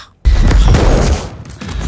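A loud, close burst of gunfire in a Stranger Things series finale scene erupts after a brief silence and rolls on as a heavy volley for over a second.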